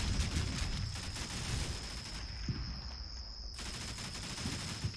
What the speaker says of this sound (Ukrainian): зі всіх сторін б'ють по ворогу